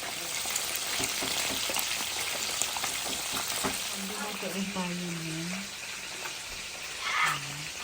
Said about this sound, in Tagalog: Ako ay nagluluto ng fish. Nagpiprito ako guys.